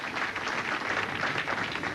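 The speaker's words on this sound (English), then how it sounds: "a little bit of encouragement from the crowd" A crowd at a 1988 Goldpin Classic bowling match applauds a converted spare, a short, dense burst of steady clapping from the stands that carries through the whole moment.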